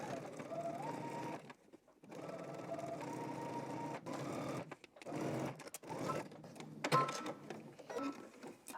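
Sewing machine stitching a 5/8 inch seam allowance on a Simplicity garment pattern, whirring in several bursts separated by brief pauses, quiet and close with no talk.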